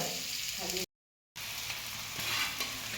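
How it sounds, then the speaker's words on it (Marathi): Rice mixture roasting in a pan while being stirred, a steady close sizzle with scraping, broken by a short silent gap before the frying continues. "चांगलं भाजून घ्यायचं आता ते हलवून"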